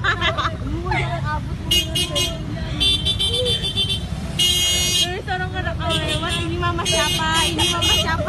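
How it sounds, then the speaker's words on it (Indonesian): At a busy city intersection, car horns honk repeatedly at a motorbike rider in short, loud blasts over traffic noise and crowd chatter. A voice talks over the honking. "harus menerima berisiknya terpaan suara klakson"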